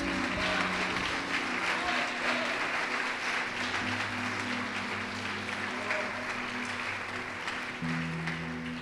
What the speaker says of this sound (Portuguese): Vamos aplaudir o Senhor Jesus por isso.